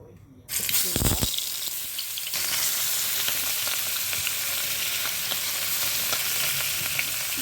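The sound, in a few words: fish pieces frying in hot oil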